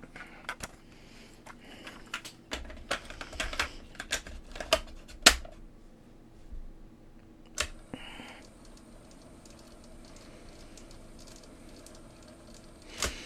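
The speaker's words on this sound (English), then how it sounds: "So it winds forward, still doesn't latch." A Decca Harmony CR 1100 cassette mechanism winds forward without latching, giving a quiet run of clicks and small mechanical taps, with a sharper clunk partway through and a faint whirring between.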